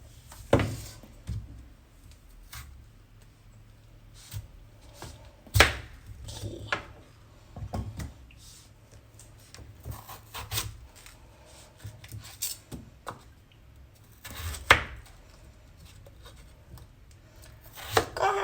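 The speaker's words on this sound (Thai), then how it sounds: "เดี๋ยวเราต้องหั่นผักก่อนนะคะ" Vegetables are chopped on a board in scattered knife taps and strokes, sometimes quick, sometimes pausing, close and fairly quiet.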